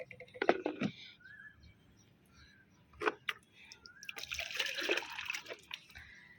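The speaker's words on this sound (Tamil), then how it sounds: "இப்போ கொஞ்சம் கொஞ்சம் மரத்துக்கெல்லாம் 2 மக்கும், செடிக்கெல்லாம் 1 மக்கும் விடுறாங்க" Water is poured from a mug onto garden plants in a few short splashing bursts, followed by a longer, louder pour and trickle, quiet and close.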